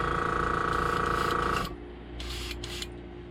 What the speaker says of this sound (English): spray it from a distance